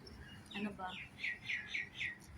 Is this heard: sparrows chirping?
yes